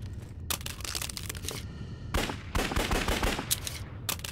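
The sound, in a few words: top loading gun firing in the video game Zed Zone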